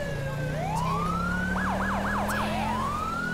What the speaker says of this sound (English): I love this new siren.